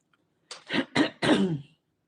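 A quick run of three or four hoarse coughs and throat-clearing sounds, close up, with no talking around them.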